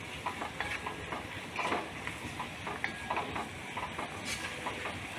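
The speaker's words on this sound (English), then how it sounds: "Keep frying it for about 2 to 3 minutes" A steady crackling sizzle of onions frying in a pan for chicken biryani fills the clip, with soft scraping and stirring sounds scattered throughout.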